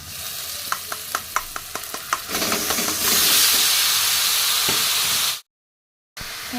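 Marinated chicken hits a pan of fried onions and paste after a few rhythmic stirring taps, breaking into a loud, sustained sizzle before cutting to silence.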